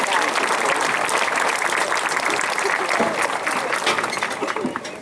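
Sustained applause from a graduation audience honoring school personnel, steady dense clapping filling the space with crowd noise, loud and continuous before tapering slightly at the end.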